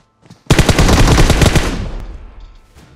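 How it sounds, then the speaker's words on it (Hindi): An M416 rifle is hip-fired in PUBG Mobile: one loud, rapid automatic burst of about a dozen close shots over a second and a half, then a fading tail. "भैया M4 का जो हिप फायर है ना क्या है भाई, क्या गजब की गन है M4"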